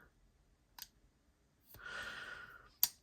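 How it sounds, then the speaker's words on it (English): A Civivi folding knife's lock snaps with a crisp click near the end, preceded by a faint tap and a brief rustling wipe; close and fairly quiet. "Listen to that click."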